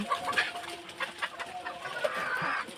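Faoumi chickens on a poultry farm in Jamalpur, one of them with an eye problem, give close, repeated short clucks and murmurs in an irregular rhythm, with some quieter birds in the background.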